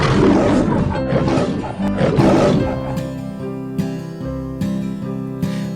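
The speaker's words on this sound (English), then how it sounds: "the bear growls, and the lion roars" A lion roars in a deep, drawn-out growl that surges loud twice, then tails off into a lower rumbling over a sustained droning background, with no talk.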